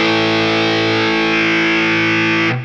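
Guitar played through a Danelectro Cool Cat distortion pedal with the treble wound up, a loud, buzzy, sustained distorted chord that rings steadily for over two seconds and then cuts off abruptly, with no talking.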